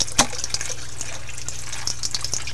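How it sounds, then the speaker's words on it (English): Water from an aquaponic pump splashes and trickles into a grow bed, a steady liquid gurgle with small splashes and a low pump hum underneath, close and moderately loud, with no talking. "It pumps the water up into this grow bed here, which is the primary grow bed."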